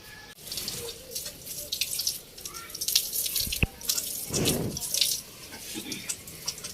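Tap water runs and splashes while plants are watered in a village yard, a close steady flow with drips and spattering bursts, plus a few faint background noises.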